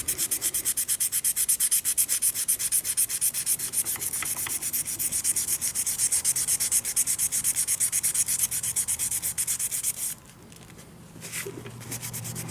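Worn sandpaper rubs rapidly back and forth on a Honda Accord combo switch part, a loud, close, rhythmic rasping that stops abruptly near the end, followed by faint handling noise.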